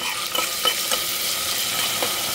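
Rice with plenty of cumin, fresh coriander and salt sizzles loudly in hot oil, with a continuous close hiss and soft stirring scrapes throughout.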